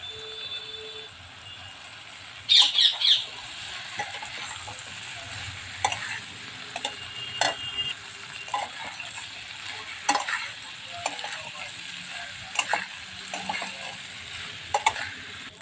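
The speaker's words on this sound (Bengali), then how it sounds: "এবার এর মধ্যে দেব সিদ্ধ করে রাখা পাস্তাগুলো।" Boiled pasta sizzles in a pan with a steady frying hiss, while a spoon stirs it with irregular scrapes and clinks against the metal and a short rattling clatter early on.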